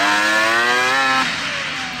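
A 2-stroke Can-Am Maverick X3 converted into a snowmobile revs loudly and close by, holding a high buzzing pitch before the revs drop suddenly partway through.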